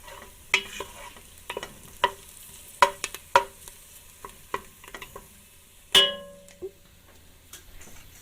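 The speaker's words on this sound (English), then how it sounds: "now I'm going to add the garlic. Okay. Give that a stir." Garlic fries in a pan with a soft, steady sizzle while a utensil stirs it, giving sharp scraping knocks at irregular intervals and one louder clang near the end, all close up with no talking.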